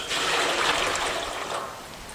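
Black walnut sap poured into a pan over an outdoor fire while making syrup, a steady close liquid splash and trickle lasting about two seconds and easing off toward the end, with no talk.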